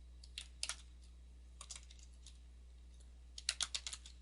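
Quiet keystrokes on a computer keyboard come in short, scattered bursts, with a few isolated taps early on and a quicker cluster of clicks near the end over low background hum.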